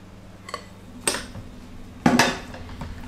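Spoon scraping and knocking against a pot while stirring a choux pastry egg and milk mix, three or four sharp metallic clinks spaced about a second apart, close and fairly quiet.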